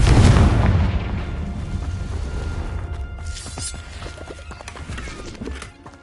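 A Confringo fire spell blast in Hogwarts Legacy: a loud, close boom at the start that decays into a rumbling tail with scattered crackles and impacts.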